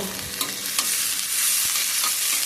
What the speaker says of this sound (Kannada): ಫ್ರೈ ಆಗಲಿ. ಟೊಮೆಟೊ ಒಂದು ಹಾಕ್ತೀನಿ ನಾನು.